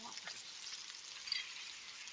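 Pork sizzles on a Thai moo kratha grill pan at an outdoor backyard meal, a soft, steady hiss of frying with no talk over it.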